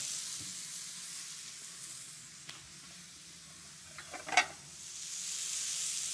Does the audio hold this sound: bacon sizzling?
yes